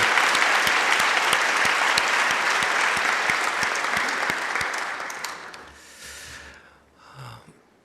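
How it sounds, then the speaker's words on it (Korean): Sunday service congregation giving a sustained round of loud applause for the choir and staff, dense clapping that gradually thins and fades out, followed by a brief quieter stretch with faint movement. "영광의 박수 올려드리겠습니다"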